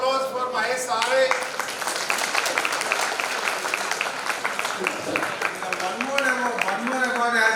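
A crowd at an award ceremony for laboratory animal scientists keeps up steady applause beneath a speaker talking over a public address system throughout.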